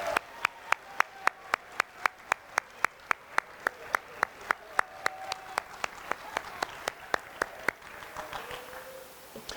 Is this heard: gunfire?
no